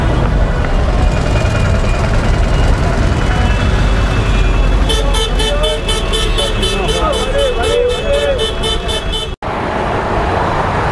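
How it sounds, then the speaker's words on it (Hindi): Heavy street traffic roars under a metro bridge in Kolkata, with a steady wash of engines and repeated honking horns growing insistent midway, close and loud throughout. "खतरनाक ट्रैफिक है,"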